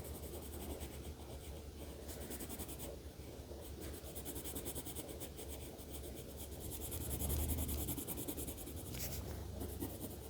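A colored pencil laying a second layer of green on paper, with continuous close scratchy strokes that swell slightly louder near the end, with no talking.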